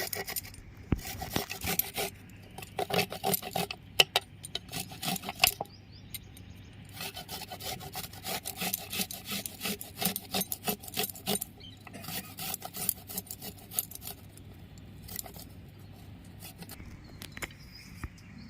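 Fresh ginger rubbed against a grater, giving a close, continuous rough rasping with quick uneven strokes throughout and no talk.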